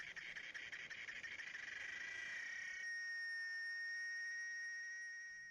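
Cicadas chirp in a steady, shrill, buzzing drone that holds unbroken for several seconds, fairly faint and alone, with the pitch shifting slightly partway through.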